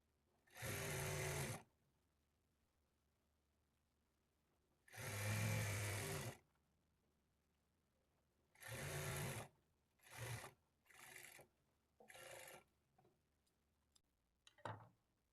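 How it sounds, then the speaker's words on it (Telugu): A sewing machine stitches thread piping onto a lining blouse. It runs in close, loud bursts: two long runs, then several shorter ones, with quiet gaps between. "క్లాత్‌ని కొంచెం లాగినట్లుగా పట్టుకొని స్టిచ్ చేసుకున్నాము"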